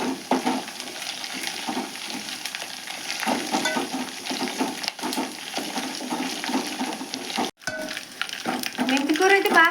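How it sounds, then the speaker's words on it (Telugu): Fenugreek leaves fry in oil for a dried prawn curry, giving a steady close sizzle with frequent stirring scrapes, a brief pause partway through, then renewed frying and stirring. "మెంతి కూర అయితే బాగా ఫ్రై అయిందండి"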